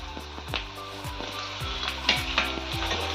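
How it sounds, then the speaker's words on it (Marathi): Okra (bhindi) fries in oil with turmeric, giving a close, continuous sizzle broken by repeated spatula scrapes and knocks about every half second, with no voices. "आता ही तेलात चांगली परतवून घ्यायची भेंडी."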